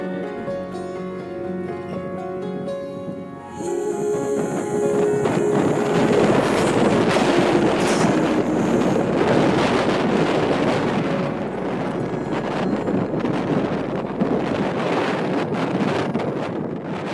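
Strong wind roars across an open mountain valley floor in Ladakh, a sustained loud buffeting blast hitting the microphone after a calmer opening, with no voices.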